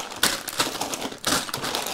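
Plastic bags of FunWhole building bricks for a steampunk train set rustle and crinkle as they are handled, several quick crackling bursts close up, no talk.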